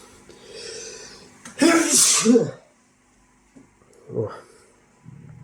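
One loud, close sneeze bursts out in a quiet room during the disassembly of a dosimeter, followed by a softer sniff or throat sound and a brief murmur.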